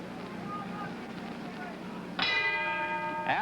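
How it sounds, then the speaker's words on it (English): A boxing ring bell rings out loudly during a fight between Rocky Marciano and Archie Moore, its sustained metallic tone cutting through steady crowd noise and a commentator's talk, with a second strike near the end. "And there's the bell."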